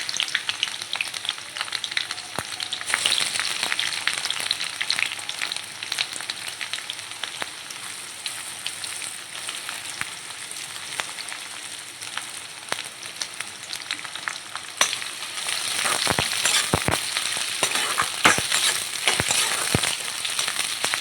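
Three large chopped onions fry in a pan, giving a continuous close sizzle with sharp scraping stirs that grow louder and busier toward the end.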